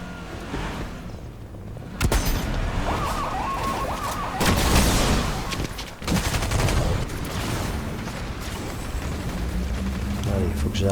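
Explosive rifle gunfire in a Fortnite match, sharp blasts and rapid bursts of shots over a busy game soundscape, with a person talking throughout.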